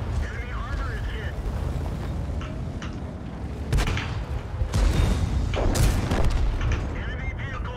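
A tank cannon shot striking an enemy vehicle in a tank combat video game, with heavy booming blasts and metallic impacts over a constant rumbling engine drone and a voice speaking throughout.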